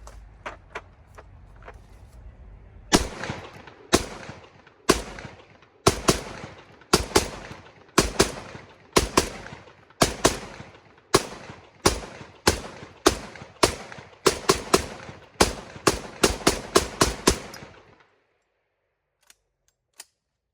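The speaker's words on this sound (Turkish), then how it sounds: "Atışımızı yaptık. 28 tane fişeğimiz bitti." A rifle fed from a 30-round drum magazine fires a string of about 28 sharp, loud shots outdoors, spaced at first and then coming faster, before falling silent.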